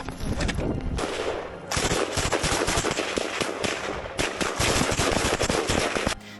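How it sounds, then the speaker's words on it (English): Machine gun firing in battle near Bakhmut, loud, close bursts of rapid shots with short gaps between, sharp and continuous. "you take the rifle, I'll go with the machine gun"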